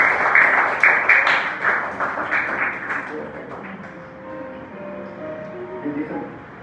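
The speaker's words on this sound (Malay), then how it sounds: "beri tepukan untuk diri sendiri" A Year 5 Islamic education class in a classroom claps for itself in a lively burst for about three seconds, then the clapping fades as a voice and background chatter carry on.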